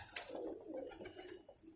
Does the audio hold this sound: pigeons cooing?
yes